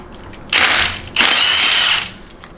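A power tool running out extension housing bolts on a Dodge 48RE transmission during a teardown, two close, loud whirring bursts with a short pause between them.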